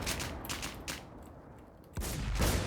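Gunfire in a shooting video game, a few quick bursts of shots followed by a louder closer volley near the end, with no talk over it.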